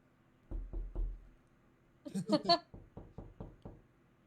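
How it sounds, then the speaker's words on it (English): A light knock sounds in a tabletop role-play session, a run of soft, evenly spaced raps heard twice around a brief burst of voices. "So I'll give a light knock"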